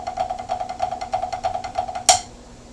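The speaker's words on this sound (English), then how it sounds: "let me hear you play your Swiss Army triplets, you want to play them up tempo a little bit" Snare drum Swiss Army triplets played at a brisk tempo, a quick evenly pulsing run of light strokes at moderate volume, capped by a single louder accented hit near the end.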